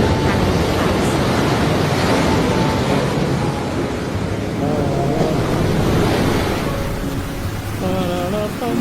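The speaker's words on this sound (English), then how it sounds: "The ship encountered weather problems at sea, and waves crashed over the ship." Sea waves crash over a ship caught in bad weather at sea, a loud, continuous roar of surging water and wind with no clear breaks, dense and close throughout.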